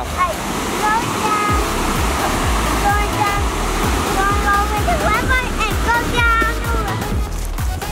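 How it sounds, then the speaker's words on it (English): A large waterfall on Stone Mountain pours in a loud, constant rush of spray and crashing water close by, while birds chirp repeatedly over the roar and voices are faintly present. "There's a lot of spray coming off the waterfall."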